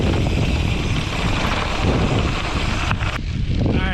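Strong wind buffets the microphone while cycling through the Utah desert, a steady loud roar of rushing air that drops out abruptly near the end, with no speech.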